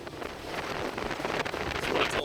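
Wind on Fraser Island buffets the microphone in a steady, rough rush with gusty swells, fairly faint and alone, without voices.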